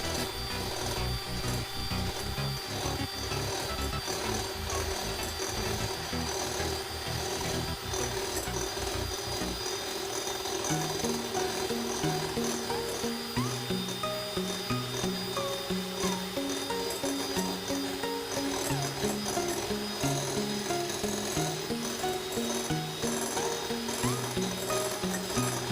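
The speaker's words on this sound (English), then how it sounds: "Now I'm going to be using an electric whisk." Electric whisk whipping egg whites at slow speed, a continuous close mechanical whir with rattling beater texture that holds steady throughout, alone without speech.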